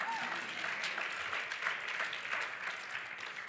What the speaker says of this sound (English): That's the applause line.